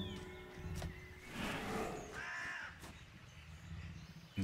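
A crow caws several times in the action game Darksiders, harsh rasping calls separated by short gaps, moderately loud against a quieter game background.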